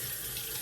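Tap water runs steadily into a sink to rinse shaving soap away, a continuous close splashing hiss with no talking.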